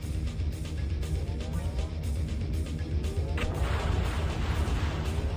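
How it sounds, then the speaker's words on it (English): A missile system fires in the MechWarrior 2: Mercenaries video game, a dense continuous barrage of heavy rumbling blasts and booms with no pauses. "But I hear a missile system."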